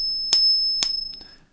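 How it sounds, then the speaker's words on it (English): A fake silver coin is tapped twice, producing two short metallic pings with a thin high tone that decays fairly quickly, then a faint extra clink. "Listen to this fake one."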